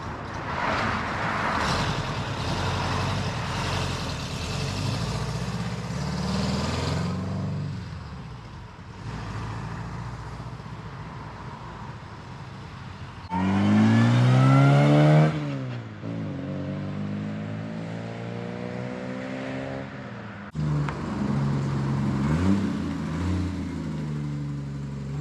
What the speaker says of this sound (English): Off goes the Volkswagen camper.